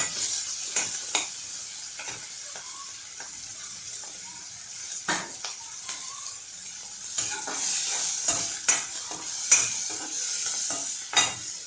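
Vegetables tossed into a hot pan of hing and turmeric for Karnataka-style bisi bele bhaat, giving a steady close-up sizzle and hiss with sharp clatters of stirring throughout, no talk.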